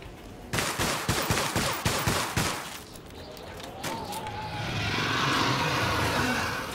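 A shotgun fires in the Solstice Chronicles: MIA video game, with a rapid series of about eight sharp blasts in quick rhythm. These are followed by a swelling, roaring wash of game noise.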